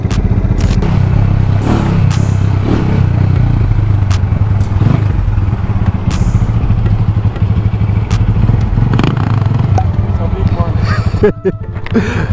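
A loud motorcycle engine runs continuously nearby with a deep, steady rumble, along with clattering and thumps, outdoors in Jamaican street bike culture; people talk over it.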